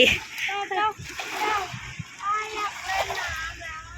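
A small child splashing in cold sea water, repeated uneven splashes and sloshing close by, with a child and an adult talking over the water.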